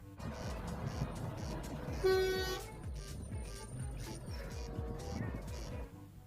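A toy water tanker truck gives a single short honk. The horn sits over a busy, rumbling background of play noise.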